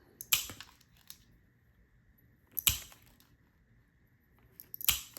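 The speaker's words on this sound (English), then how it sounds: "I am just using my nippers to cut off the corners." Glass nippers snapping corners off small pieces of fused glass, three sharp, separate crunching clicks spaced a couple of seconds apart over a quiet background.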